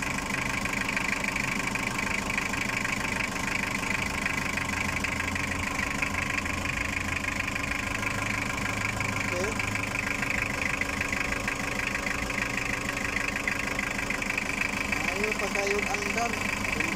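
A Toyota 2L diesel engine idles steadily after a top overhaul following overheating, a continuous close rumble with faint knocking and vibration running throughout, while someone talks over it.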